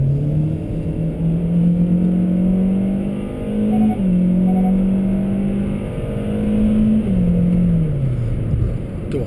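2022 Hyundai Elantra accelerating, its engine droning loudly and steadily from inside the cabin, pitch climbing through gears with a few brief dips at the shifts, road noise underneath and no voices.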